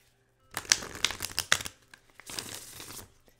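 Tarot message cards shuffled by hand: a few quick crisp riffling bursts followed by a longer papery shuffle, close and fairly quiet with no talking.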